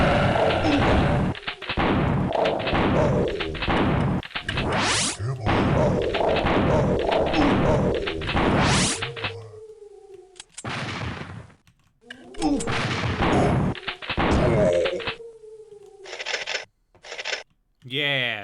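Shotgun fire in the 3DO shooter Killing Time, a series of loud, heavy blasts in uneven bursts separated by short pauses, with quieter game sounds in the gaps.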